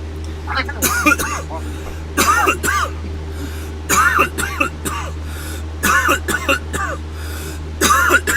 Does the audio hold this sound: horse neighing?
no